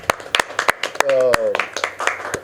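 Scattered, uneven hand claps for a film producer at a Pehli Nazar and Saawan poster launch, sharp and fairly close, mixed with a voice speaking and a brief sung or drawn-out vocal tone in the middle.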